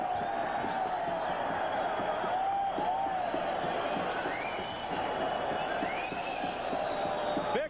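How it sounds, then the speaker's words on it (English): A noisy boxing arena crowd roars continuously, with scattered shouts and whoops rising above the dense, loud din. "Crowd on hand, very noisy crowd."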